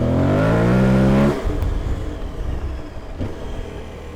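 An off-road motorcycle on a Motoz Tractionator rear tire revs hard as the wheel spins out, a loud rising engine whine that drops off after about a second into rough, gravelly rumbling and scrabbling close by.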